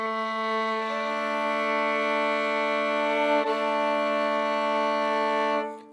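A single sustained violin note held steadily for intonation practice, bowed evenly and close, rich in overtones, ending abruptly with no talking.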